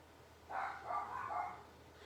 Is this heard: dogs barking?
yes